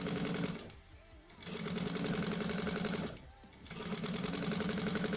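Sewing machine running in two long bursts with a short pause between, stitching grosgrain hems on a bag; a steady, loud mechanical whir close by.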